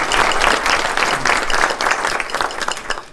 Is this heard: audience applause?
yes